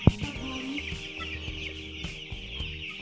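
Chickens held off water before a poultry vaccination cluck softly and intermittently in a coop, with a steady high hum of the surroundings underneath and a sharp knock at the start.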